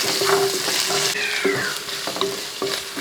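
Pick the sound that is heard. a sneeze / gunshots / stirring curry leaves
stirring curry leaves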